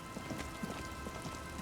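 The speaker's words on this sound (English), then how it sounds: "It's raining, of course." Steady rain in Disco Elysium, a dense hiss of drops on the ground with soft patters and a low rumble underneath, holding even from start to end with no voices.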